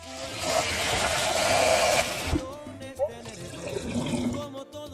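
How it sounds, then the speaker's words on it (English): Tap water runs steadily into a kitchen sink while vegetables for sofrito are rinsed, a close, continuous splashing rush that breaks off briefly with small clatters before flowing again. "Rinse them a little bit more. Put them in the drainer. So we're gonna rinse."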